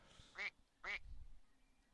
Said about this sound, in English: Oh no, it's the death ducks.